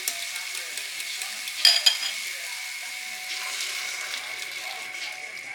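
Food sizzles and fries in a pan with a soft, steady hiss, broken near the middle by a couple of brief clinks and stirring scrapes.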